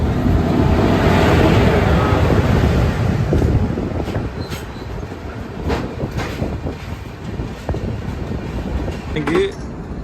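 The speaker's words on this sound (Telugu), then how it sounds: "మన ముందు ఏ ట్రైన్ వస్తుందండి" An express train rolls past a platform near Gudur junction, loud rumble and rail clatter up close, easing into lighter rhythmic clicks as a voice talks over it.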